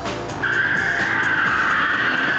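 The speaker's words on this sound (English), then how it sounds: "Big power slides, nip the handbrake." A BMW 540 power slides under the handbrake, its tires letting out a loud, sustained skidding squeal over the engine roar that holds steady for about two seconds.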